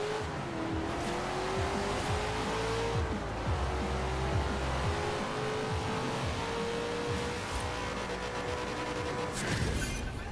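Cars racing in a drag race in Forza Horizon 4, with a loud, sustained engine whine that climbs in pitch through the gears and a brief tire squeal, heard alone for about ten seconds.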